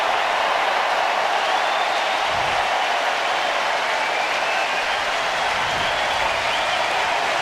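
A capacity baseball crowd on its feet roars and applauds, a loud, continuous wash of cheering and clapping that holds steady throughout.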